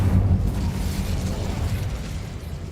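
Incendio fire spell blasting in Hogwarts Legacy inside a spider-filled tomb, a heavy low roaring whoosh that swells at the start and rumbles steadily on, loud and close with no talk.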